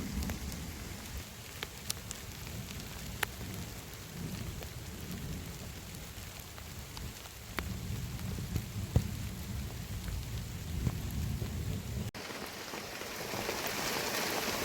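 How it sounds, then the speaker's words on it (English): Steady, consistent rain falls outdoors in the bush in the early evening, a continuous broadband hiss of drops on surfaces with occasional sharper individual drop hits, moderately loud and unbroken throughout with no talking. "but now finally at 6 o'clock we're having nice consistent rain."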